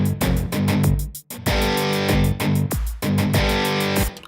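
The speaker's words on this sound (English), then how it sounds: "So they are really the solo guitars." A heavily distorted electric guitar plays a solo line in short driving bursts with brief pauses, loud and upfront.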